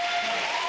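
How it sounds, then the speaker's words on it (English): Audience applause for Colonel Vindman at a Democratic debate in New Hampshire, a short burst of dense, steady clapping from a crowd with no clear voices over it. "Stand up and clap for Vindman."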